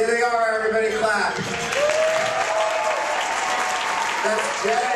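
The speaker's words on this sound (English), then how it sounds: "There they are, everybody clap." Dinner audience applauding steadily, a dense wash of clapping throughout, with a voice talking over it intermittently.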